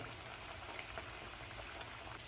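Fish frying in very hot oil for a fish sayadiya with rice, a steady dense sizzle and crackle with small pops throughout, close and even, with no talking.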